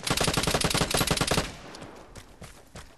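Gunfire in the online shooter Vigor: a rapid burst of about a dozen loud, close shots in quick rhythm for the first second and a half, then fading to quieter ambient noise with faint distant clatter.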